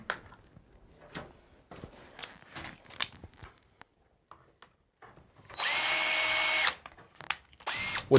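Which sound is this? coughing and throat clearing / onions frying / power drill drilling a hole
power drill drilling a hole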